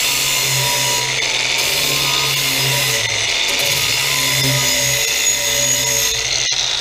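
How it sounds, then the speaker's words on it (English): A power tool sands a metal bracket on the back of a tow truck, producing a loud, steady, close-up whine that runs without a break and with no talking over it. "We're only going to be sanding it"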